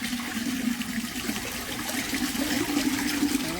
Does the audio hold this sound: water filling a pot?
yes